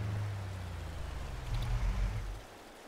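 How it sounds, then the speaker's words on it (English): Steady low rushing roar of a waterfall pouring down into water in Farming Simulator 22, a continuous broadband wash that swells slightly midway and then eases, heard alone. "terrific waterfall below us"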